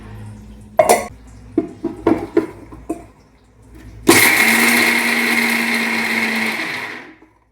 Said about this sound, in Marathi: आधी हे जरासं गार होते आणि मग मिक्सरला कनेक्ट